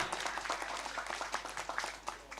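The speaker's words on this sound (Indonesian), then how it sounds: "Tepuk tangan yang meriah." Moderately loud clapping from an audience at a village gathering with the regent of Jepara, a steady patter of many hands continuing throughout.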